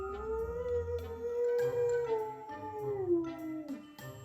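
A dog howls in a long sustained wavering tone that slides down at the end, close and fairly loud, broken by a few short sharp noises and no speech.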